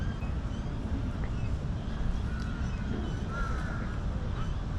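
Crows cawing in a Bangkok park, a few separate calls at moderate distance over a steady, dense background hum of wind and city noise, with no one talking.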